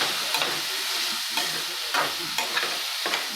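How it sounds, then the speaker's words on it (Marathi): Spiced eggplant curry stirred in a frying pan, a steady sizzle with a spoon scraping the pan bottom several times, close and moderately loud, no voices. "चांगलं वांग्याला सगळा मसाला लागला पाहिजे. आणि खालून कायम हलवत राहा"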